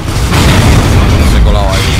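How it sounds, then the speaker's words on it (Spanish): A grenade explosion in Gears of War 3, a loud booming blast with a rumbling, roaring tail filling the moment up close. "¡Lanzo granada!"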